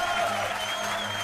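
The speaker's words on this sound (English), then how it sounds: "Un max de bruit pour Clément" Applause and cheering from an esports crowd for StarCraft 2 champion Clem after the Maestros of the Game grand final, a dense steady wash of clapping filling the hall.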